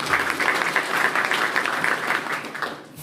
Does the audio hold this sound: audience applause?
yes